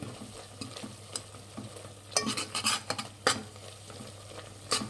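Rasam in a pot is stirred after chili powder goes in, with a soft bubbling sizzle underneath and several sharp spoon-against-metal scrapes and clinks up close.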